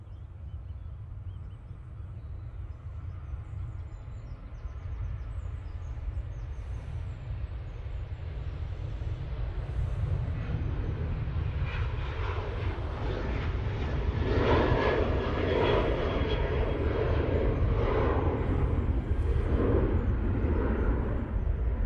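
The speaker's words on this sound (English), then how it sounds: "Ryanair 737-800 now on the roll." A Ryanair Boeing 737-800 on its takeoff roll at Manchester Airport, a steady jet engine roar that swells louder over about twenty seconds as thrust builds and the aircraft accelerates, heard from the spotting position with no talk.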